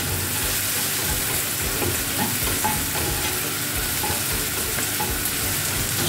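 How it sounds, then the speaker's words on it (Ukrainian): Sautéed onion and carrot sizzle in a frying pan while being stirred for a meatball sauce base, a steady close hiss of frying with scraping stirring movements throughout. "І тепер я гарненько, гарненько так перемішаю."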